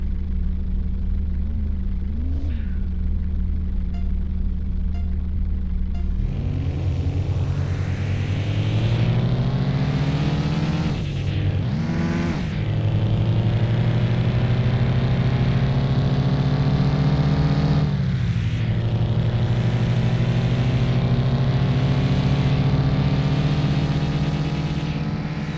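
A very loud car engine from the driving game Mon Bazou idles with a deep drone, then revs up hard and rises in pitch, dipping and surging through several throttle blips and gear changes, steady and close for the whole stretch with no voices.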